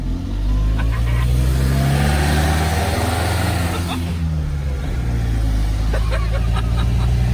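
Two very slow cars in a 0 to 50 mph drag race, one likely a diesel, with a loud, continuous engine drone that strains and climbs steadily under load, close and sustained throughout.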